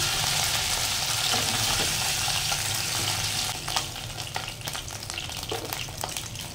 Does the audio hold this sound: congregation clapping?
no